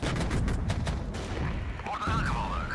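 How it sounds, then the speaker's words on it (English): Mortars and small arms auto-fire during a street battle in the real-time strategy game Regiments, a dense, fairly quiet clatter of shots and thumps followed by a rising whistle-like tone, with no talking. "We'll just put an attack move on the mortars because they auto-fire at things anyway."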